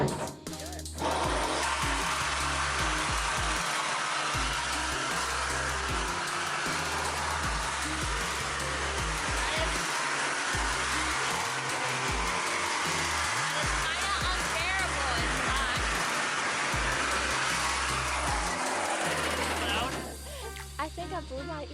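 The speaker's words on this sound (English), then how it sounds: "This is what it looks like from the inside while Colin is screwing it" Screws being driven into a Sprinter van body, heard from inside the van: a loud, harsh, continuous grinding roar that fills the cabin steadily for about twenty seconds with no talking.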